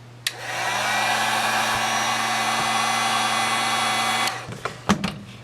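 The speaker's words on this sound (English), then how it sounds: "so we use the hot air to open it" A hot air gun blows steadily and loudly while heating a glued 60W-equivalent LED bulb to open it, with a constant whooshing roar lasting about four seconds before it cuts off, followed by a few sharp handling knocks.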